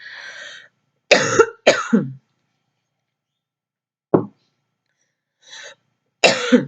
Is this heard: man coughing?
yes